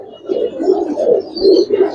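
A yellow-eyed highflyer pigeon coos close by, a soft throaty series of about six rolling pulses in steady rhythm, heard clearly on its own.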